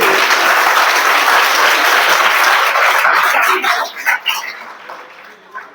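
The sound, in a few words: audience applause, clapping loudly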